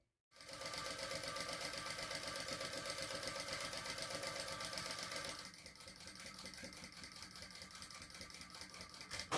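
A sewing machine stitches a bag strap for the Sedona Crossbody in one long steady run, a close, even whir that drops slightly in loudness about halfway through and keeps going.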